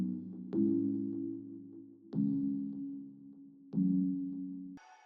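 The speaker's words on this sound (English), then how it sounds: "The main thing here is the chord progression." Synth chords open a trap track at 150 BPM: three sustained low chords, each struck with a sharp attack and left to ring and fade before the next, followed by a brief burst of noise at the end.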